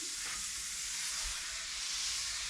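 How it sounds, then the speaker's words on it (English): Leeks sautéing in butter and olive oil in a pan, a soft steady sizzle and hiss with faint stirring, quiet and continuous with no talk. "we're gonna let them just saute, I suppose, just break down a little bit"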